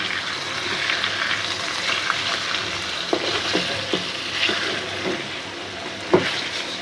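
Rui fish frying in a pan for bhuna, a continuous close sizzle with a few soft scrapes and one sharper clink near the end, no voices.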